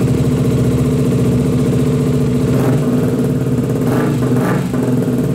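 A KTM Duke motorcycle engine runs loud and steady nearby after a spark plug change, with a couple of quick throttle blips raising the revs near the end.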